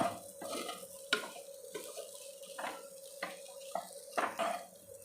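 Tamarind-free usili ammini kozhukattai, rice dumplings with toor dal crumble, being stirred in a pan, with repeated scraping strokes over a soft sizzle, close and moderately loud, no talking.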